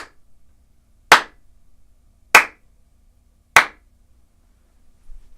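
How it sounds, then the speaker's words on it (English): Three sharp hand claps spaced about a second apart in an acoustically treated home studio, each decaying quickly with only a faint trace of lingering flutter echo. "I'll do some claps now regardless."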